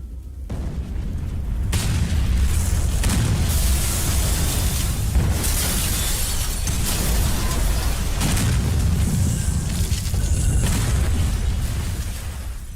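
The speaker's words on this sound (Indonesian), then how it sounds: "mengambil detonator lalu meledakkan para zombie" Zombies blown up with a detonator in the survival-horror game Resident Evil Outbreak: loud, sustained booming blasts with deep rumbling that swell and surge repeatedly across the whole stretch, with no talk over them.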